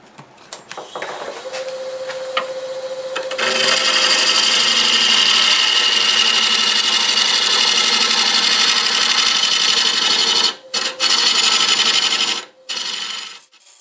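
A wood lathe spins olive wood with a steady high whine while a cutting tool scrapes a continuous, loud shaving sound across the turning piece, briefly dropping out twice near the end.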